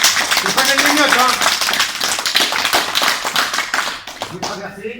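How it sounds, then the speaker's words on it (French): Audience clapping at a judo Kagami Biraki ceremony, dense close applause for several seconds that stops abruptly near the end, with voices talking over and after it. "On applaudit Thomas."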